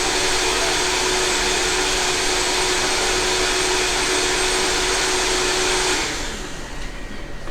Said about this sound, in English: we're just going to blend it